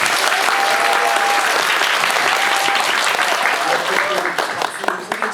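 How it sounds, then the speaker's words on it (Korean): An audience at a film screening event for the movie Kill Boksoon in a Myeongdong cinema breaks into loud, sustained applause, dense clapping that fills the room before thinning toward the end, with a voice briefly heard over it. "박수 한번 치고 다시 시작하겠습니다."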